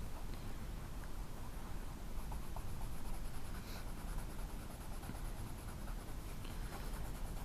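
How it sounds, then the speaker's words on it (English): A purple crayon rubs across paper while coloring in a dinosaur drawing, a faint continuous scratchy texture of close back-and-forth strokes with no voices. "I'm going to go over with my purple crayon and kind of go into areas and add a little bit of a kind of like a texture with my crayon"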